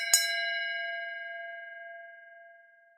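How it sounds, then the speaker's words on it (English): A single bell is struck once and left to ring on, its bright metallic tone hanging as a long, steady, slowly fading resonance with no voices. "bells,"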